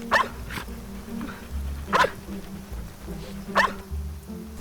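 A trained dog searching an outdoor area for wildlife carcasses gives three sharp barks spaced evenly apart, moderately close, over faint insect buzz and low background rumble.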